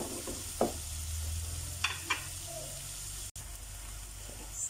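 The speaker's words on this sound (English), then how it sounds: "Let this fry off and soften up a bit for about 2 minutes." Kebab chutney fries softly in a pot with a low, steady sizzle, a few faint clinks and scrapes rising above it at the start and middle, fairly quiet with no talking.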